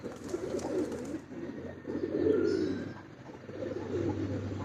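Pigeons coo in low, repeated rounded phrases that swell and fade in several bursts, fairly close, with faint higher bird chirps in the background and no talking.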